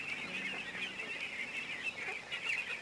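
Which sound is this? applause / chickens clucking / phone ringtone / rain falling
chickens clucking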